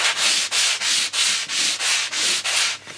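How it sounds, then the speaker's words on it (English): Sandpaper rubbed across a glued wing skin joint on a model aircraft: nine even, close, raspy strokes in a steady back-and-forth rhythm, with no talking. "Sand across the joint."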